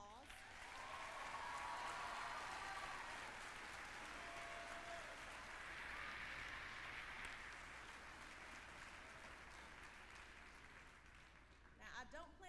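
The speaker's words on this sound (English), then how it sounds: "Let's give all of our students another round of applause" Long, steady applause from an audience at an eighth grade promotion ceremony, continuous dense clapping that holds level for over ten seconds, with some voices mixed in underneath.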